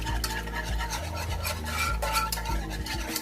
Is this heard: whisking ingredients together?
yes